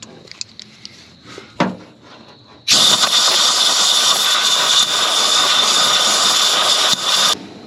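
The engine of an old 4x4 Ford Ranchero, left sitting for over 30 years, cranks and tries to start. After a few faint clicks and a thump, a loud, sustained, close churning roar runs for several seconds before cutting off.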